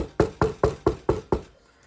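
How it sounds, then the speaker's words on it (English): Six quick, evenly spaced knocks on wood, close and crisp, stopping abruptly into quiet. "knock on wood. Not do it again"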